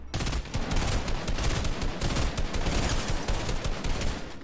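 Dense, continuous gunfire from the video game Fortnite, with overlapping rapid shots and bursts packed tightly together, loud and sustained throughout without any talking.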